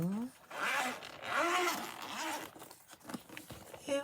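Zippers rasp open and shut on cheap pencil case pouches from Temu, several quick tearing zips mixed with handling noise while someone talks over them.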